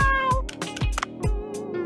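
A cat in the video game Dave the Diver meows several times in a row, with short, close, clear calls and no voices over them.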